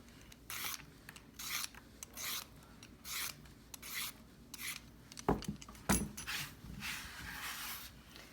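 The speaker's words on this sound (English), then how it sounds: "you use whatever you have to peel your carrots" Carrots are peeled with a peeler in repeated short rasping strokes at a steady rhythm, close and quiet, with a couple of sharper knocks near the end and no talk.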